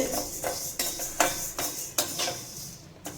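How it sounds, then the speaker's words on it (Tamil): A spoon scrapes and stirs ukkarai, a Chettinad sweet mixture, as it roasts in a metal pan. Regular clinking strokes come about every half second, close and fairly loud, with no voices. "இது நல்லா கைவிடாமல் அப்பப்போ கிளறி விட்டுக்கிட்டே இருக்கணும்"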